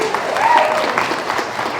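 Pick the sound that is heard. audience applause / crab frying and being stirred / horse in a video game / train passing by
audience applause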